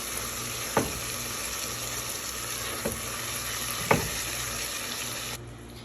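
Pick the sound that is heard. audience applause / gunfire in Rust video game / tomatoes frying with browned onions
tomatoes frying with browned onions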